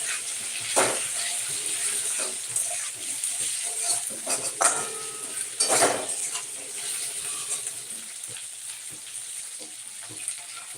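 Pumpkin and two chillies sizzle in a hot pan, with steady frying hiss broken by clinks and scrapes of a spatula stirring against the metal.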